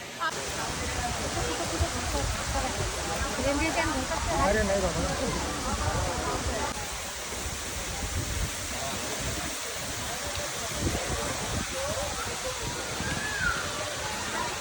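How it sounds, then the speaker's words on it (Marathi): A large waterfall pours in heavy monsoon rain, making a steady, dense rushing roar that fills the scene at an even, loud level from start to finish. "पक्का पाऊस पडतात आणि मोठे वॉटरफॉल बघा"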